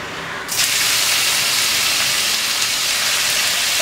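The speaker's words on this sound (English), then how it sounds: "now the oil has become hot now we will put the onion" Chopped onion dropped into hot oil for a pizza sauce, bursting into a loud, steady hiss that starts abruptly after a brief quiet moment and holds constant, close and alone.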